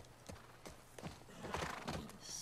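Horse hooves clip-clop at a gallop in The Last of Us Part 2, a quick uneven rhythm of fairly faint thuds over low background rumble, with no talking.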